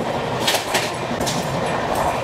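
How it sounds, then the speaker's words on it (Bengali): Chennai–Howrah Mail train running through Andhra Pradesh, a steady rolling rumble with rhythmic clickety-clack of wheels over rail joints, heard from inside the carriage, continuous and fairly loud. "সেই স্টেশনের উদ্দেশ্যে আমাদের ট্রেন ছুটে চলেছে"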